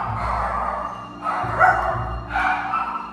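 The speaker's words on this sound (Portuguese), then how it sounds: "esse cachorro começa a latir" A dog at home barks in three short, moderately loud bursts over a low background hum.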